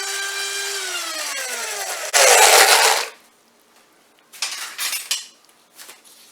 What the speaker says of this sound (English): And then you're going to blend.